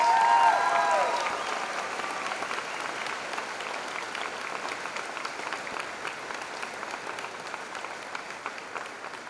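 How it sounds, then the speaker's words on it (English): Audience at the Valders High School 2023 graduation ceremony gives a round of applause for the graduating class, steady crowd clapping from a large room, a short voice at the start then clapping alone. "let's give one more round of applause for the Valders High School graduating class"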